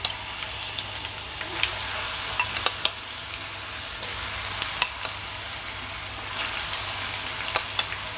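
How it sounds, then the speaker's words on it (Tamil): Pieces of elephant foot yam fry in hot oil, giving a steady, dense sizzle throughout with occasional sharp pops and crackles, moderately close and without any talking. "இப்போ வந்து இந்த சேனைக்கிழங்கு வந்து ஃபஸ்ட்டு எண்ணெயில் வறுத்து எடுத்துக்கலாம்"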